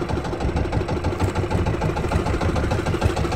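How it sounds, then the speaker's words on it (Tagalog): Boat engines idle steadily as boats circle around, a constant mid-low throbbing drone heard close and alone with no voices. "Mga bangka paikot-ikot din."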